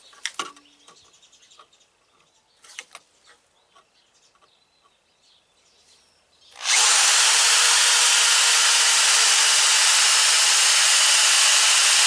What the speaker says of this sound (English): these are carbide drill bits, and it's still struggling